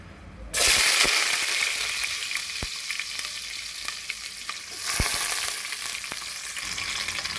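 Chopped onion hits hot oil in a pan for moong dal khichdi, with a sudden loud sizzle that settles into steady frying, a few sharp taps of stirring, and a second surge of crackling partway through.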